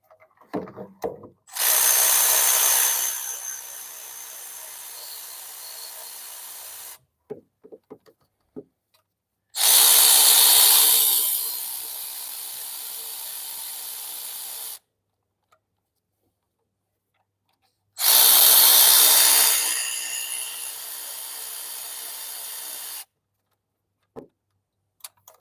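Three long, loud bursts from a power tool undoing the bolts on a Ford Focus EcoBoost engine during a wet timing belt change, each lasting several seconds with a whining spin-down and separated by quiet gaps and small clicks.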